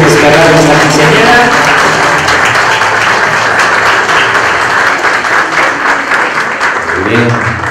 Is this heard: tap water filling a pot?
no